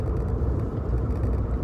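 Riding inside a car, with a steady low engine and road rumble filling the cabin, continuous and even for a brief moment with no voices.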